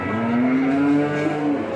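A cow moos in one long sustained call at a busy cattle market in Sleman, near Yogyakarta, loud and close against a steady background of crowd and livestock noise.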